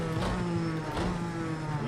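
Engine note of a GTE-class race car in Project CARS 2 at the Zhuhai circuit, a steady sustained whine with slight rises in pitch, loud and continuous with no talk over it.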